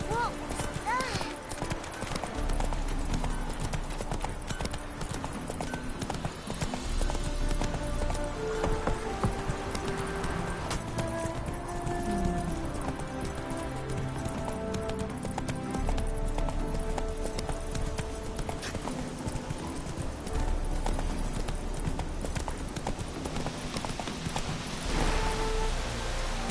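Horse hooves clip-clopping at a gallop in The Witcher 3, a steady loud beat under game music, ambient rain and a rider's spoken urging.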